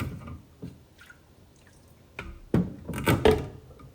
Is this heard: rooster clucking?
no